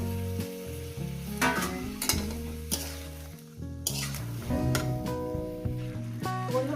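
Cauliflower and potato masala with tomato sautéing in a pan, loud steady sizzle with repeated scraping stirs and spoon knocks, background music running underneath.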